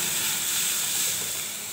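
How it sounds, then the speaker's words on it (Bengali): Spices such as cumin and black cumin sizzling in hot oil as masoor lentil dal is tempered on the stove, a steady loud hiss filling the whole short moment with no voices. "ডালটা ফোড়ন দিয়ে দিচ্ছি।"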